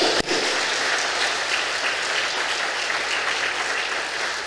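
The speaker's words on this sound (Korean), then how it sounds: "우리 하나님께 영광의 박수를 올립시다." A church congregation breaks into dense, sustained applause that fills the hall at an even loud level from start to finish, after a brief sharp onset.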